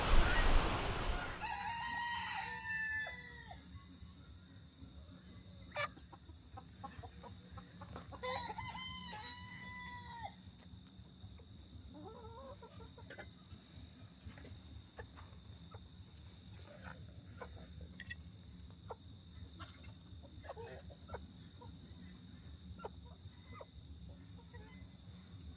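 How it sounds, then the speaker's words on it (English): A rooster crows twice early on, loud and close, followed by scattered clucks and short calls over a steady low farmyard hum. "So I think the girls and boys are going to love this. We should probably head over and get them."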